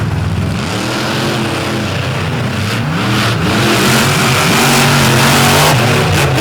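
Drag racing cars rev and accelerate hard down a grass-track drag strip at a third-place race, a loud, continuous engine roar whose pitch climbs through gear changes without a break.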